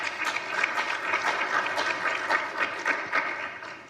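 Conference audience applauding after a speaker is introduced, a steady burst of many hands clapping at moderate loudness in an indoor hall.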